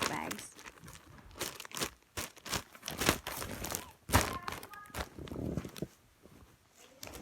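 A handmade paper squishy wrapped in a plastic Ziploc bag is handled up close, giving repeated sharp crinkling and rustling bursts in an uneven rhythm, with brief soft talk in between.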